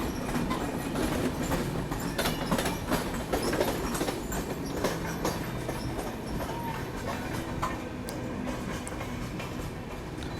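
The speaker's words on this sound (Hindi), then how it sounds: "यहाँ पे कोई ट्रेन बिल्कुल पैरेलल में निकल रही है अपने साथ" At night, a train runs parallel alongside a moving Indore Daund Express, giving a steady, loud rush of wheel rumble and rail clatter with faint rhythmic clicks that continues throughout, and no one talks.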